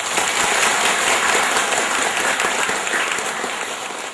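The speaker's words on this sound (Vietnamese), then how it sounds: "chúng ta có một tràng pháo tay chúc mừng Đức Cha và Quý Cha" A congregation gives loud applause to a bishop and priests at a missionary sending ceremony. Dense, continuous clapping fills the space and tapers a little near the end, with no talking over it.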